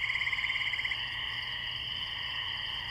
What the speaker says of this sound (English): never thought I'd hear crickets in an OSC track